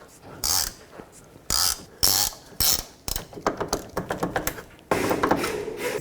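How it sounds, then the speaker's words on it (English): A ratchet wrench takes a nut off the stud of the front lower control arm on a 2001-2007 Volvo V70. Loud separate ratcheting bursts are followed by a fast run of clicking pawl strokes and then another sustained ratchet burst. "I'm going to take my wrench, slide it over the nut."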